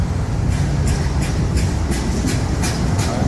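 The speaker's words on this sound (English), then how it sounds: "There's a tram." A passing tram gives a loud, steady rumble of wheels on rails with a regular clatter of rail joints beating about every half second, continuous throughout with no talk.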